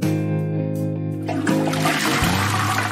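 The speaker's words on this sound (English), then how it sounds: "somebody just flush the toilet" A toilet is flushed partway through, a rushing, gurgling surge of water that enters loudly and then continues as a washing swirl, following a stretch of steady tonal music.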